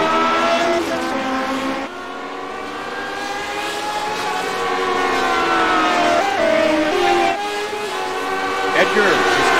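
A vintage Lotus 79 Formula 1 race car engine screams at high revs during a sim racing event at Silverstone, a continuous loud howl with pitch shifts through gear changes, under an announcer's commentary.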